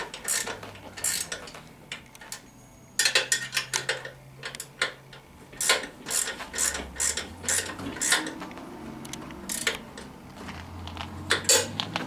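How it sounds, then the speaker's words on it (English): A ratchet tightening the bolts that hold an ATV's chain in place, heard as loud metallic clicking and clanking bursts in irregular runs, close up, with a low background hum and no talk. "So I'm just going to tighten those down now, and that'll keep the chain where it's at."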